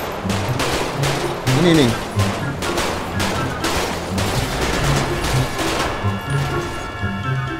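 Rapid gunfire bursts from a GTA 5 Indonesian police mod during a chase with a thief, loud repeated shots crackling throughout with someone speaking briefly over them.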